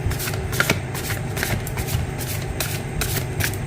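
Tarot cards are shuffled continuously by hand, a close, dense riffling and rustling with no pauses and no talk.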